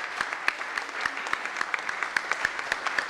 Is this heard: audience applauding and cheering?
yes